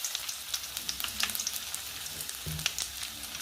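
Oil tempering sizzles steadily in a pan as seeds and ginger pieces crackle, with frequent sharp pops over a continuous hiss and a brief stirring scrape near the end.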